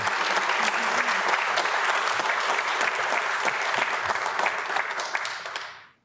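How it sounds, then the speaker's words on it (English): A business school audience breaks into sustained, dense applause for two arriving guests, steady and full for about six seconds before quickly fading out. "let's give them a huge round of applause and a warm welcome"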